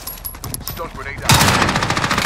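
Automatic gunfire bursts out in Call of Duty Warzone on Rebirth Island, a loud rapid rattle that starts after a second of softer game sounds with bits of radio-style voice, then fires continuously.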